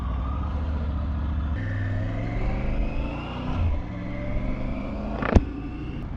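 A Triumph Tiger 850 Sport motorcycle rides along, its engine note rising and falling through gear changes with a steady rumble and wind, then a sharp brief knock near the end.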